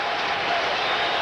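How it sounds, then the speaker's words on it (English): Houston Oilers home crowd applauding during a 1991 NFL football game against the Cleveland Browns: a brief, dense wash of stadium clapping and crowd noise, steady and fairly loud throughout. "another very sportsmanlike round of applause from the"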